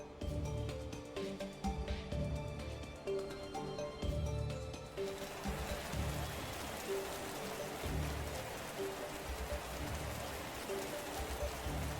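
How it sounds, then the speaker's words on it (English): Steady blue rain pours in the Path to Nowhere game during the Flora Unfurl event, a continuous loud hiss of drops on surfaces under a quiet melodic music bed. "It's raining her most hated blue rain outside."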